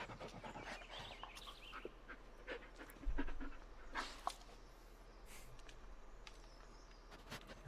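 Bullet the dog pants in the Blair Witch video game, giving quick, faint breaths in a steady rhythm over quiet outdoor ambience with birds and insects, plus a brief louder thump partway through and no voices.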